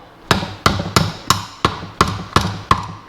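Eight sharp, evenly spaced metallic taps of a hammer striking a pry bar to bend back gearbox lock tabs on a Classic Mini Ute remote gearbox, loud and close with a ringing ping on each hit.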